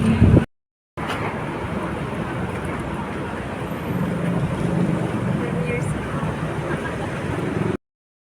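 Steady broadband wind rumble buffeting the microphone on an outdoor walk in Ayala, loud and continuous after a brief gap, with a voice heard briefly at the start.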